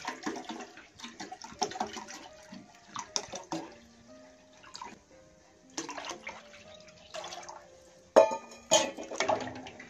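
Cold water poured into yogurt with dried mint for mixing, heard as intermittent splashing and trickling bursts with a louder splash near the end, no talk.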